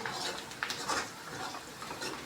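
Spiced potato bhaji with chili powder and onions being stirred in a pan, a spoon scraping and clinking against the metal with soft rustling, steady and close with no talking.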